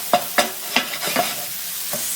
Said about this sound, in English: So we're just going to cook this down for a couple of minutes while I get the tuna all ready.